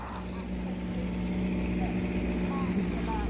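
Race car engines at Laguna Seca, heard as a steady, loud, continuous droning roar with a sustained low hum, no pauses, probably from a distance down the track.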